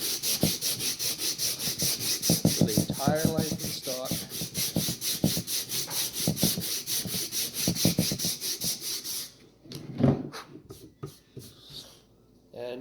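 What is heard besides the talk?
sanding wooden gun stock with 60 grit sandpaper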